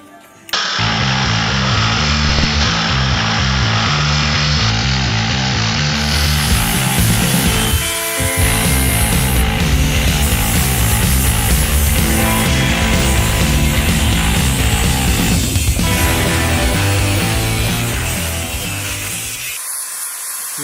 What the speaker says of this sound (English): Had to get some new cutoff wheels. She's still grinding.